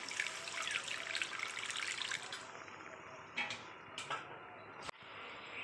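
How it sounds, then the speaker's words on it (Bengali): Water is poured into a pan of simmering sardine fish curry, a soft, steady splashing stream for about two seconds, then a few faint drips and clinks in a quiet kitchen. "দেখো জল ঢেলে দেব"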